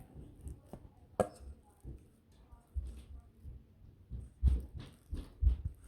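Cloud slime being mixed by hand, soft sticky squelches and taps coming in irregular bursts, close and fairly quiet, with a voice speaking at times.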